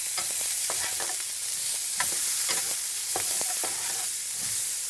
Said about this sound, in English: We're just wanting to saute our onions and make those a little soft and translucent.